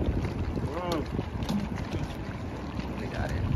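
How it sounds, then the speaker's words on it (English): Wind gusts buffet the microphone in a steady rough roar, with a brief whistling tone and faint voices in the background. "it's a bit too windy"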